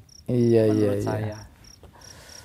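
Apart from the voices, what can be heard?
crickets chirping at night in Sumba savanna garden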